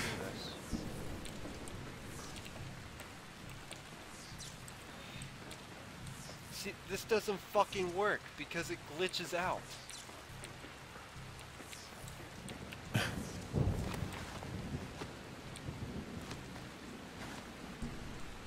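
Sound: rain in the video game Dying Light

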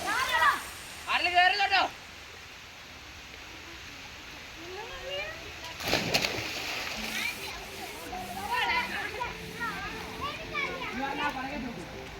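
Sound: children splashing while jumping into a stream

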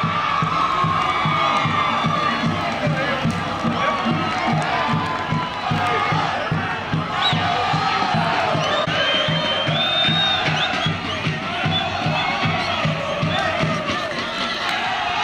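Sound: football crowd cheering

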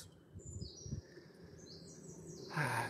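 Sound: birds singing outdoors on a sunny day

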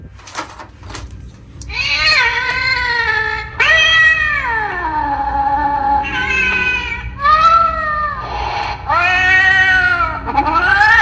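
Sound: animated Halloween cat decoration meowing

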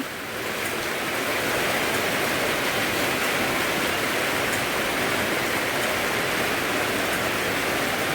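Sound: rain falling

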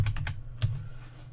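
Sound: typing on a computer keyboard

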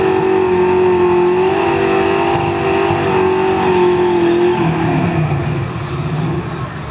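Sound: race car accelerating and shifting gears

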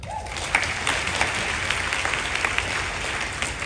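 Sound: audience applause

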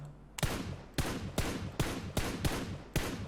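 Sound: gunfire in PUBG Mobile video game

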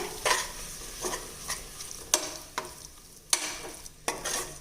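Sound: stirring curd into frying chicken masala

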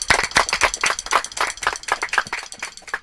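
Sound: audience applause welcoming musicians

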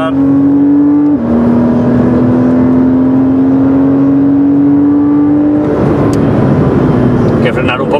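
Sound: Porsche Cayman S PDK accelerating on Portimão circuit

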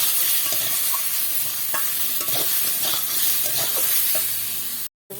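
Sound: stirring fish curry with turmeric in frying pan

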